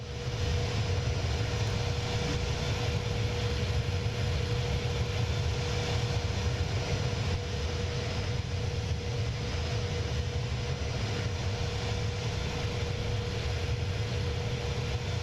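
An Inibuilds A310 airliner climbs out in Microsoft Flight Simulator 2024, a steady loud jet engine roar with deep rumble and a constant tonal whine, unbroken throughout.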